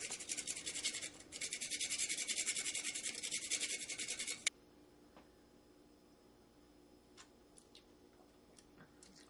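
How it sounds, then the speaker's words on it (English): Nutmeg is grated over a glass of eggnog topped with whipped cream: a close, soft, rhythmic scraping that lasts a few seconds and then stops abruptly, leaving faint kitchen quiet with a few small clicks. "And then a little grating of nutmeg on top."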